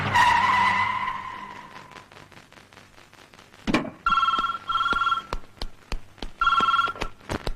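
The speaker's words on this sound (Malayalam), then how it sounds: "ഹലോ സർ, മേയറുടെ ഫോൺ." A telephone rings in repeated bright trilling bursts after a brief engine roar and skid-like sweep, no talk.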